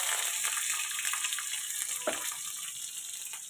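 Bottle gourd cooking in a pan, producing a continuous close frying hiss that eases slightly over time, with a single soft knock midway and no speech.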